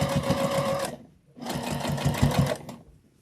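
Sewing machine stitching through fabric and batting for a Christmas bowl cozy: two close, loud runs of rapid mechanical whirring and clatter, with a short pause between them.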